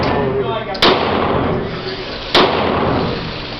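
A Glock 19 Gen 6 pistol fires twice, with sharp reports about a second and a half apart, over loud background noise and what may be voices.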